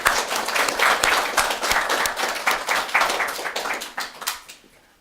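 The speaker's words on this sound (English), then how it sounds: "Let's thank them with applause" A small audience at a spiritual gathering in a private home claps for the hosts, a lively burst of hand clapping that stays strong for a few seconds and then tapers off.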